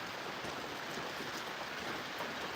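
Steady, soft hiss of rain falling in rural Punjab, a continuous even patter without breaks or voices, fairly quiet and diffuse.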